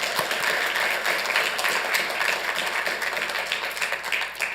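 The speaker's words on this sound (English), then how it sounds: "Let's give them a round of applause for that." Audience at a Santa Ana city council meeting applauding, a steady dense wash of clapping from many hands that holds throughout without pause.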